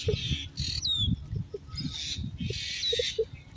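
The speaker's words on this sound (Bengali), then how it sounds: "ওই যে তার স্বজনরা ওই যে চিৎকার করতেছে আশেপাশে" Several myna birds give harsh, scratchy screeches and squawks close by, in short bursts separated by gaps, over faint low rumbling background noise.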